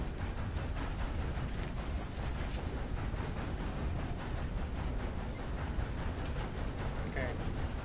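Rapid clip-clop of horse hooves in a video game, steady and close, with a rushing rumble underneath and a few sharp clicks early on.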